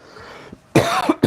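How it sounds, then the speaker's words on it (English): A couple of sharp, close coughs break a near-silence, the second following quickly after the first. "Sorry, guys, for the coughing."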